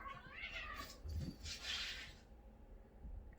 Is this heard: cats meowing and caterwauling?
yes